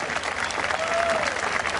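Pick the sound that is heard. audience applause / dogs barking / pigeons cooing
audience applause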